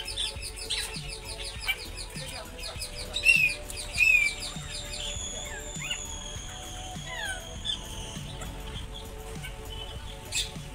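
Parrots and other birds in a zoo aviary at Thrissur chirp and squeak in overlapping bursts, with high whistled calls and soft rhythmic ticking under a busy, fairly faint background.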